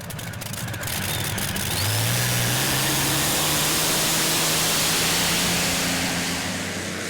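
A V12 Allison-powered pulling tractor roars loud and steady, its deep engine note climbing in pitch as it works down the track at a 2015 European tractor pulling championship in Brande, Denmark, with the roar holding strong throughout.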